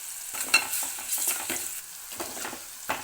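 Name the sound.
onions and spices frying in pan for brinjal curry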